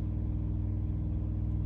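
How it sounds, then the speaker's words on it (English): A motor runs steadily outdoors, a low, even rumble with a faint hum, holding at a constant level throughout without any clear start-up surge. "The motor outside started up"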